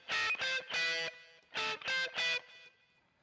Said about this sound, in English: Let's use a tape delay.